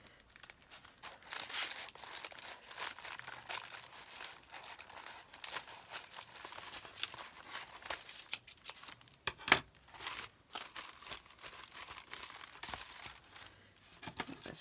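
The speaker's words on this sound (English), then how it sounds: "So I'll just get my scissors here and just chop down." Scissors snip and crunch through paper, trimming the edges of junk journal pages, with quiet rustles between a series of close, irregular cuts.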